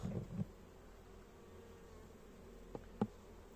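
A steady, low buzz of honeybees humming continuously at a crowded hive nearby, with a few faint knocks and thuds; no voices.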